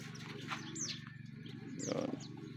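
Racing pigeons feeding at a training loft in San Pablo, Laguna, with soft cooing and a few faint chirps over a steady low hum, and occasional light flutters and pecking noises nearby.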